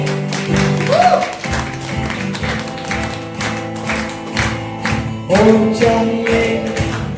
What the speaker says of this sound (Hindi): कम ऑन, हम सब यीशु के लिए जोरदार तालियां बजाएंगे।